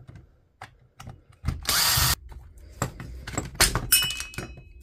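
A Makita BHP452 18V cordless drill is taken apart, with close clicks, ratcheting snaps and a burst of harsh mechanical rattling, scattered among quieter handling knocks.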